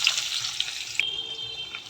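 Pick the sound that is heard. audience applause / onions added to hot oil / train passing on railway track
onions added to hot oil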